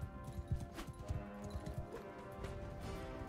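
Horse hooves clip-clop close by in a Bannerlord battle, the irregular thuds moving over a busy background of battle noise.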